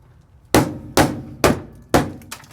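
Hammer blows smashing dry-ice-frozen sound deadening off the floor of a Mazda RX7 rally car: four loud, sharp cracking thuds at an even pace, then a fainter fifth, close by with no talk.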